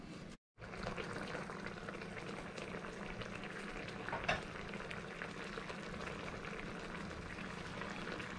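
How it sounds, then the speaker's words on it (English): Mango curry sauce for a Sri Lankan amba maluwa bubbles steadily in a pan, a continuous dense sizzling and popping simmer heard close up with no talking. "That sauce has been bubbling away quite profusely."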